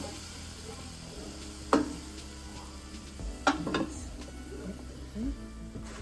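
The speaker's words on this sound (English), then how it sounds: "In the pan, we got a little avocado oil and some butter, just to kind of soften up these apples here." Apples soften in a pan of avocado oil and butter, giving a steady low sizzle, with a few sharp clinks and scrapes of stirring on top, heard close and moderately quiet.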